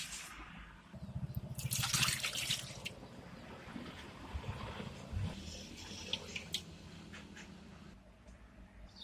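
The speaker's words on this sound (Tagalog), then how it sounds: "In a large cooking pan, put water" Water pours steadily into a large cooking pan, a broad splashing rush that swells early and then settles into a softer trickle with small drips, close and fairly quiet.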